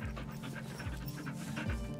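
Several dogs pant in rapid, steady breathy rhythm up close, a continuous huffing texture with low whimpering tones underneath, no talking.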